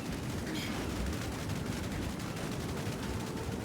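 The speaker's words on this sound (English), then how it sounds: "The explosions were quite delightful, I must admit." Placed explosives detonating in Path of Exile II, a continuous dense barrage of crackling, rumbling blasts that holds at a steady high loudness throughout.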